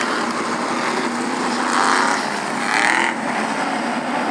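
SK Modified race cars roar around Stafford Speedway, a loud dense engine din with two swelling passes as cars sweep by, continuous with no talk.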